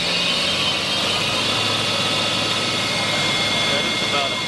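An electric parking area sweeper runs on a show floor at the National Pavement Expo at about 1,000 RPM, giving a steady, loud, unbroken mechanical whir and hum that holds evenly throughout.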